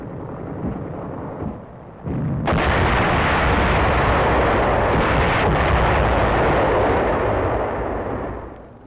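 A WWII mortar barrage shields advancing tanks of the 184th Infantry at Rocky Crag Ridge on Okinawa: quiet rumbling, then from about two seconds a loud, continuous roar of firing and blasts that fades slightly at the close.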